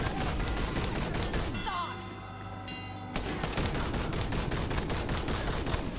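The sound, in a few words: gunfire, warning shots in the video game Borderlands 3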